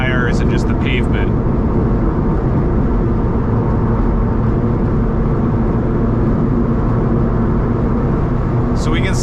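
Loud constant roar of tires on rough pavement heard inside a Lotus Elise cruising at speed, a dense low rumble filling the cabin throughout, with brief faint sounds at the start and end.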